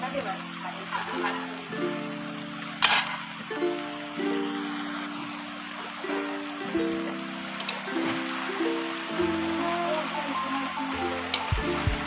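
Malabar spinach and vegetables sizzle in a pan while being turned over, a crackling fry with occasional scraping knocks of the spoon, under a steady tonal hum and near background noise.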